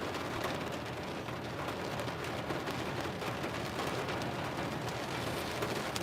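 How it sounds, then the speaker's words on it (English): Heavy rain from a Southwest Florida thunderstorm, heard from inside a vehicle, drums as a steady, dense roar with a low rumble beneath, constant throughout and not masked by any talk. "There's the rain."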